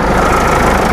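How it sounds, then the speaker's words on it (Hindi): A Mahindra Scorpio mHawk diesel engine idles steadily and close up, a dense, even rumble with no talk over it. "मैंने गाड़ी स्टार्ट कर दिया, आप देख सकते हैं कितनी साइलेंट गाड़ी है"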